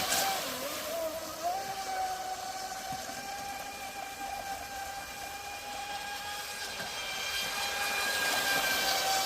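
A Proboat Recoil 2 RC boat with an upgraded 2000kv six-pole motor and 150A ESC runs at full throttle on water, a thin, high electric whine that holds steady and rises slightly, heard from some distance over faint wind and background noise.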